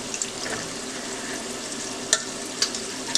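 Gizzards and liver frying in peanut oil, a loud, steady hiss and crackle of hot grease close by, with a few sharper pops and spits toward the end.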